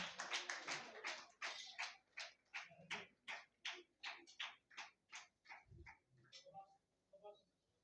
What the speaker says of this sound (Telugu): క్లాప్స్ కొట్టండి అమ్మా, క్లాప్స్ కొట్టండి.